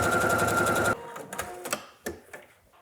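A sewing machine stitches a bodice seam in a fast, even whirring burst for about a second, then stops, leaving a few soft handling clicks and rustles.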